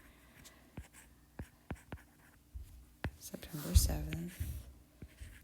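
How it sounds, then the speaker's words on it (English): Someone handwrites a date on paper, making a few sharp, close scratching strokes. A soft voice then speaks over the continued writing. "I'm going to write my date right here."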